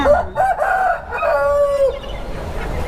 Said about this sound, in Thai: นี่คือไก่นกแดงไก่สวยงาม